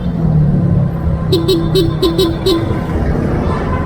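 Jeepneys and cars crawl through slow street traffic, with a continuous loud engine rumble and a short run of about six rapid horn toots partway through.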